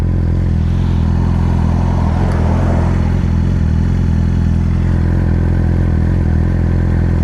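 A 2014 Yamaha R6 sport motorcycle roars steadily at close range during a ride, its engine drone loud and continuous throughout with a brief rattle partway.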